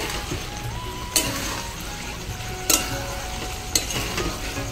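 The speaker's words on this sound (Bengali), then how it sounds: "ডিমগুলো দিয়ে মশলার সাথে ভালো করে মাখিয়ে নেব।" Whole eggs are turned through spice masala for an egg curry while the pan sizzles softly underneath; three sharp spoon knocks ring out at uneven intervals.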